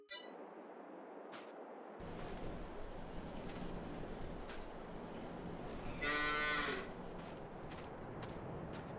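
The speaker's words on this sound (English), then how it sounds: "80 cows for this barn." Cows lowing at a large barn in the Farming Simulator 22 video game, one clear drawn-out moo standing out over a steady ambient farm bed, with faint clanks around it.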